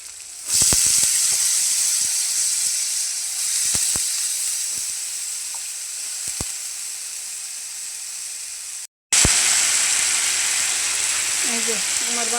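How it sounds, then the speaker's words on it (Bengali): Potato pieces fry in a pan with a continuous hissing sizzle. Scattered sharp pops and crackles sound through it, the hiss drops out briefly, and a voice is faintly heard near the end. "আলুগুলি দিয়ে আমি ভাজা নিই।"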